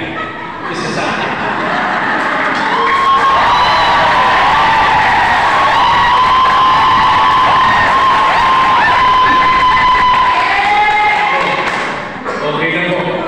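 At a political rally in the Philippines, a large crowd cheers and applauds in a sustained, loud roar with whoops and whistles rising above it. The noise builds and then tapers off near the end.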